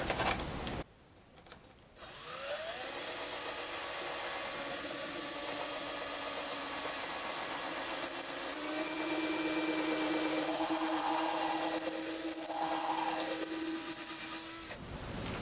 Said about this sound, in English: putting that hole through for the grounding wire. You'll see the bit come through here in a second